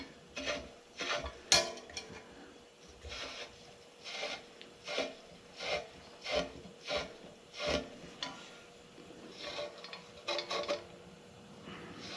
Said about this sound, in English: Dad's got like a little stiff bristled bottle brush here